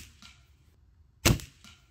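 A single sharp shot from a GAMO Swarm 3i Magnum Pro gas piston air rifle, a brief loud crack with a short tail, preceded and followed by faint soft handling noises in a quiet setting.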